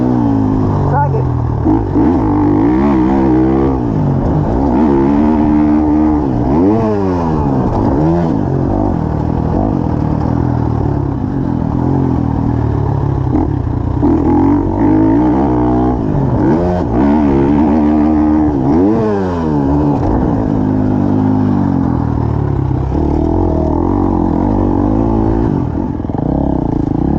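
A motocross dirt bike revving loudly and close on the approach to a step-up jump, its engine note repeatedly rising and falling without pause.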